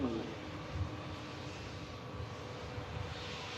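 An Airbus airliner taxiing at Manchester Airport, its steady engine roar continuous and moderately distant throughout, with a faint voice underneath.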